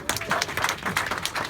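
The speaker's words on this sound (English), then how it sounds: "Round of applause, please." A crowd gives a round of applause during a best man's wedding speech, with a brief burst of close, dense clapping and a little cheering for a couple of seconds.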